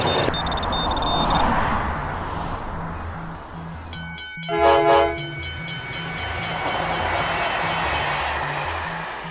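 A train rolls past a level crossing with boom gates, its horn sounding loudly in a burst partway through over the steady rumble and clatter of the cars, with a crossing bell chiming rhythmically through the rest.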